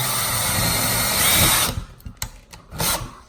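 A power drill bores holes for kitchen cabinet fixings, a loud sustained whine that stops abruptly, followed by a few short bursts and knocks.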